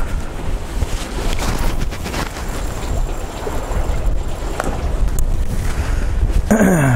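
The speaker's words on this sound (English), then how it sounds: "the wind is so strong right now" Strong wind buffets the microphone on a fishing pier over a bay, a loud, constant roaring rumble with gusting surges and water noise beneath it.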